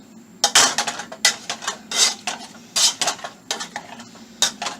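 Cooked cauliflower is mashed in a pot, giving a run of irregular close knocks and scrapes of a utensil against the pot, loud bursts separated by short pauses, with no talking.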